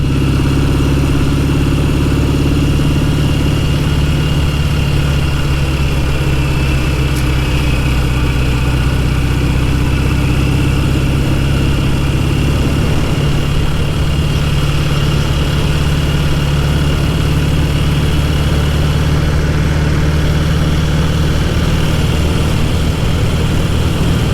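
A Royal Enfield 500 Meteor Minor Twin motorcycle engine on a road test, warmed up and suspected of oil leaks, giving a loud, close, unbroken low drone with a steady throb that holds for the whole stretch.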